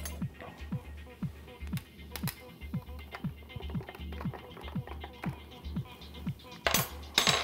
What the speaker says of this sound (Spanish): Y vamos a remover.